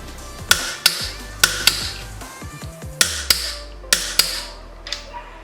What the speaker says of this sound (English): now I'm going to go ahead and torque down my front and lower motor mounts to 46 foot-pounds